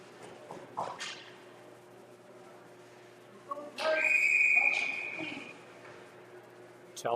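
A referee's whistle shrills for about a second in the middle of a youth ice hockey game, ringing loud over faint rink noise and scattered knocks.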